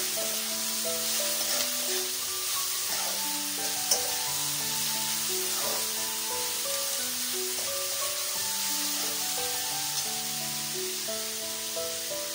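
Vegetables frying in a pan for hakka noodles, a steady close sizzle with stirring and a soft scraping texture throughout, while a layered musical background plays underneath and no one speaks.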